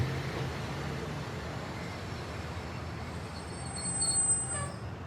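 Train wheels rumble steadily on the rails as the train arrives at Sainthia station, with a thin metallic squeal rising briefly near the end as the train slows.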